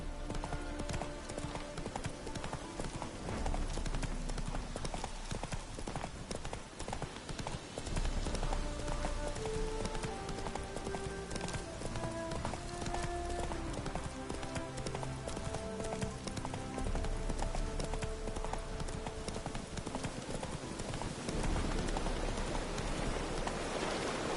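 Geralt's horse Roach gallops in The Witcher 3: The Wild Hunt, Heart of Stone DLC, with rapid, continuous hoofbeats under dense music and game ambience, and a faint voice now and then.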